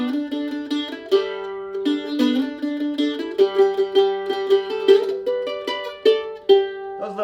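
Mandolin playing Worried Man Blues in a bluegrass style, plucked and tremolo notes with low octave G fills, close and bright, solo with no voices.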